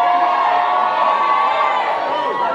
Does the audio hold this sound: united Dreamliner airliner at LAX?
no